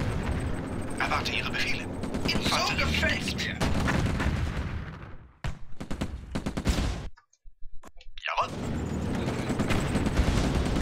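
Gunfire fills a tank battle in the Stalingrad video game, with dense bursts and booms that stop briefly and then roar back loud, under a player's voice.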